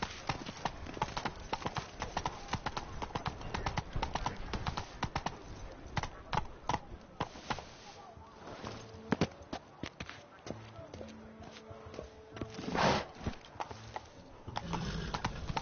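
Roach the horse gallops in The Witcher 3, a steady, rhythmic clatter of hooves running on and on, with birds calling faintly and someone speaking now and then over it.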